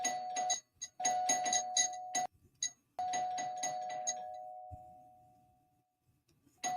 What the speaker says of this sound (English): Hold on, did I hear my bell?